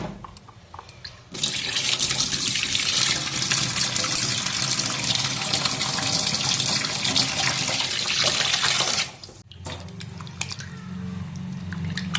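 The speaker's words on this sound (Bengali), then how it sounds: "এখন পাবদা মাছগুলো ধুয়ে নিই" Tap water gushes steadily into a kitchen sink as pabda fish are washed, a loud, continuous splashing stream that lasts about eight seconds before cutting off, with quieter dripping and handling noise before and after.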